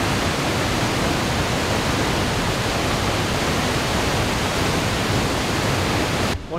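Fast-flowing river water in Canada, a loud continuous rushing roar that stays constant for several seconds before cutting off abruptly at the end, no voices.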